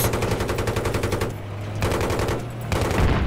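Mounted machine gun firing in Battlefield 3, long rapid bursts of loud, close automatic fire broken by short pauses, over a low engine drone.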